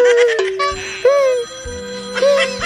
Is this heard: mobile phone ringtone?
yes